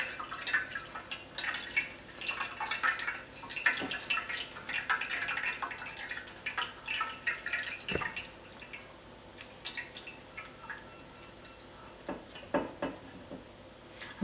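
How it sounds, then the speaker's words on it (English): Excess water drips from strained cottage cheese tied up in a cloth for rasgulla, with scattered, irregular drops and small splashes, close and fairly quiet, alongside faint kitchen clatter. "let us tie it and let it drip all the excess water for almost 1 hour"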